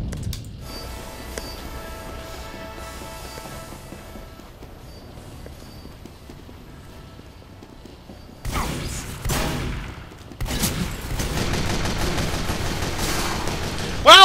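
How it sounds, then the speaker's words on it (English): Automated sentry guns fire in the multiplayer game Team Fortress 2, on the Pass Time mode's Division map. Dense, loud bursts of rapid gunfire arrive abruptly over the game's background noise and keep going with a short pause. "Sentry guns."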